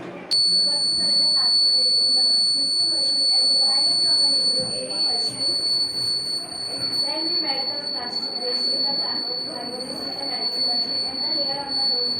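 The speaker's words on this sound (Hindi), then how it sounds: "इस प्रोजेक्ट का नाम है अर्थक्वेक डिटेक्टर अलार्म मशीन" A student-built earthquake detector alarm machine at a school sounds a continuous, piercing electronic buzzer tone that runs unbroken through the whole stretch while people talk nearby.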